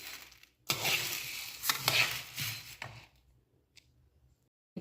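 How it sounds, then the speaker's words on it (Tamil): Urad dal being dry-fried and stirred in a pan, giving bursts of scraping and rustling with soft crackle, loudest early on, then fading to near quiet with a few faint clicks. "உளுந்து வந்து நம்மளுக்கு நல்லா ஃப்ரை ஆயிடுச்சு."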